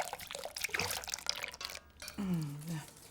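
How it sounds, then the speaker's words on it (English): Warm cream with a vanilla pod poured into a pan while whisking, a soft liquid pour and splash with tonal bubbling near the end, close and moderately quiet. "whisk and pour in the warm cream, complete with a pod"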